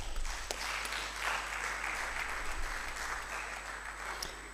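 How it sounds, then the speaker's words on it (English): Audience applause at a graduate research forum closing ceremony, a steady wash of clapping from a crowd filling the room, sustained and even throughout with no voices over it. "you had better clapped well"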